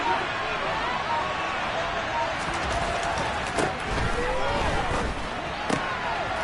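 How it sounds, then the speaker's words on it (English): Stadium crowd roaring steadily at a Broncos versus Eagles football game ahead of a big third down, a dense wash of cheering with a few sharper bursts, continuous and loud throughout. "The crowd getting into it as we come up on a big 3rd down."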